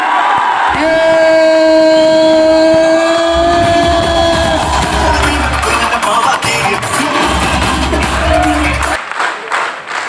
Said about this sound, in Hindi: मेरे के साथ एक बार जोरदार तालियां हो जाए।